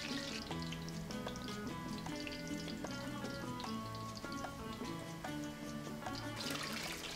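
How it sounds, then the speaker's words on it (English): Plantain slices for tostones fry in hot oil with a steady, dense sizzle and crackle that holds close and loud throughout, with no talking. "We're going to fry these for about 3 to 4 minutes until they're lightly golden brown"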